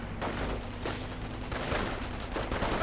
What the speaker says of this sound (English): Quickly disabled by sticky bombs, rifle shots tearing through them.